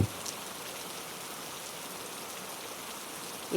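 Steady, dense rain hiss with no breaks, moderately loud and constant throughout, no voices.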